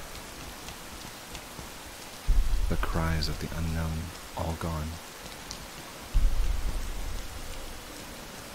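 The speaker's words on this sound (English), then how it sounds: "Only the rain falling even harder now remained hammering down upon him." Heavy rain pours down in steady, dense bursts, with a voice speaking briefly in between the downpours.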